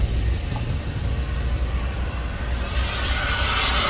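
A Honda Civic beater car drives along the road, giving a steady low engine rumble and road roar with rising wind and tire hiss toward the end, and no voices.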